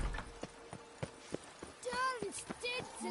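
Roach, the horse in The Witcher 3: Hearts of Stone, clops along at an even walking pace, each hoof strike distinct and close, with a short voiced sound near the end.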